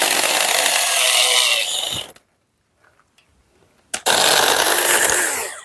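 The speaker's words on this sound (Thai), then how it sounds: "ปกติมันตัดไม้ไผ่ไม่ขาดนะเนี่ยเลื่อยเล็กนี้" Rapid rasping strokes of a small hand saw cutting bamboo, a dense scratchy burst that stops, a brief pause, then resumes loudly and close.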